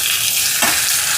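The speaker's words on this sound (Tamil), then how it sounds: "இப்போ இது நல்லா வதங்கட்டும்." Onion, garlic and curry leaves sauté in oil in a pan with a steady loud sizzle and a brief stir partway through, close up with no talking.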